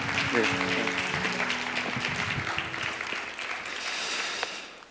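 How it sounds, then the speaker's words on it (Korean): Applause from a congregation at a church youth worship service, fairly steady and moderately loud, mixed with lingering tonal sounds and some voices in the background. "다시 한번 뜨거운 박수로"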